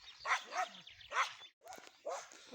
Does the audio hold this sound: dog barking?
yes